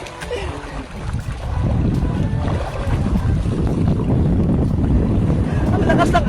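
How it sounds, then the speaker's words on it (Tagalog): Strong river current rushes loudly around a swimmer, a dense low roar of churning water mixed with wind buffeting the microphone. "Lakas ng agos guys"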